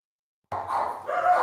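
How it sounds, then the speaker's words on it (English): Several dogs bark at someone at the door, starting abruptly after a moment of silence and continuing in loud, overlapping, close-up bursts. "my dogs are going nuts"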